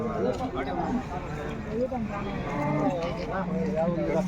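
Dairy cows, including Jersey cows, low and bellow repeatedly amid a busy outdoor crowd at a weekly cattle market in Punganur, with people talking throughout over a steady background hum.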